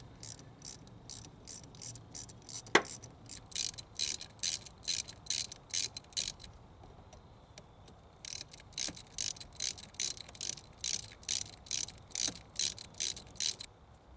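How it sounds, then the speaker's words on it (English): Rapid rhythmic clicking of a torque wrench ratcheting on a stud of a 2002 Jeep Grand Cherokee, two long runs of steady strokes separated by a short pause, close and clear with no talk. "we got to remove this stud where we get our torque wrench in there"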